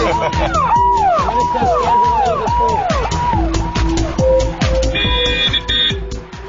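A wailing police siren sweeps up and down repeatedly on a highway in Allahabad, loud and close, with a steady rumble beneath and a brief higher electronic tone near the end.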